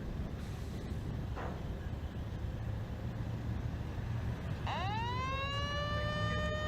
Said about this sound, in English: Pit siren sounds